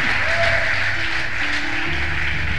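A church congregation applauds together in a dense, loud, continuous burst of clapping that fills the whole moment, with a low hum of voices underneath.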